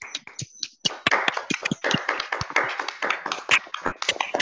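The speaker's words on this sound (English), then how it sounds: "Please unmute and give him a round of applause" Scattered applause from participants unmuting on a Zoom concert call, uneven individual claps tapping in from several people at once, thin and close-miked, with faint voices underneath.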